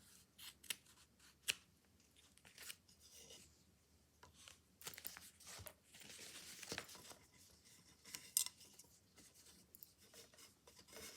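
Scissors trim excess fabric during paper piecing for a quilt block, a series of faint, close snips and rustling cuts at an uneven pace in a quiet room.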